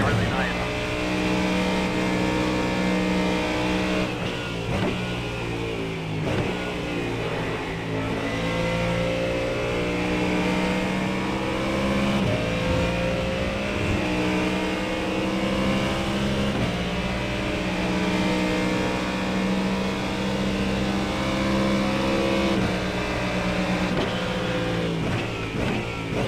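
Ford Mustang GT3 race car engine lapping Magny-Cours in the sim racing game iRacing, a loud continuous engine note rising and falling through gear changes and braking zones, with a voice talking over it at times.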